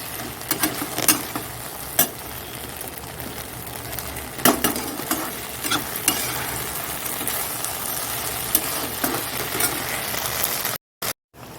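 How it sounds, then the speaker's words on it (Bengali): Pointed gourd fries in a steady oil sizzle with intermittent clinks and scrapes of a utensil stirring in a pan, ending in a couple of brief dropouts. "এইখানে পটল ভাজা বসিয়ে দিয়েছি তেলটার মধ্যে"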